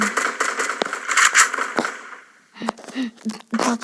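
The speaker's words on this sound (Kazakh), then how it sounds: "Атыс кетті." Rapid gunfire bursts from the Free Fire video game, sharp cracking shots in clustered volleys with short gaps, playing loudly over faint background talk.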